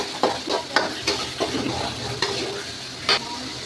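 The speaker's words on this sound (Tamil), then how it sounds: "வெங்காயம் நன்றாக வதக்கவும்" Onions sauté in a pan for a chicken curry, with an even sizzle broken by repeated sharp scrapes and taps of a spatula stirring against the pan.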